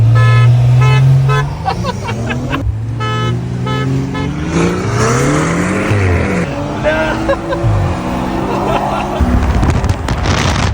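A BMW X6M Competition and a BMW 540 Stage 2 accelerate hard in a race, loud engine notes rising through gears with shifts and roaring revs, under brief talk.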